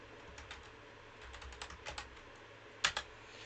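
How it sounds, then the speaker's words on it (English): Keys on a computer keyboard are tapped in a few short bursts, with scattered light clicks and a sharper double keystroke near the end, close up in a quiet room. "So let's type that in."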